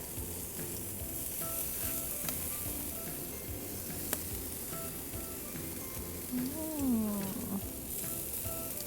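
Lemongrass chicken sizzling on a grill over charcoal, a steady soft crackle and hiss that runs throughout, with a brief wavering tone near the end.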